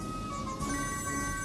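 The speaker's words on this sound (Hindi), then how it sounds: "लगता है महल से फोन आ रहा है।" A telephone rings with a continuous electronic tone, steady and fairly close, with no voices over it.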